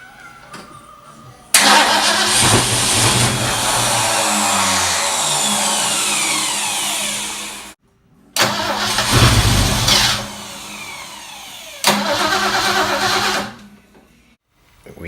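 A 1973 Gran Torino station wagon engine, dormant for 38 years, cranks and fires into a loud rough idle that cuts out briefly, restarts, and is cranked again, close and alone.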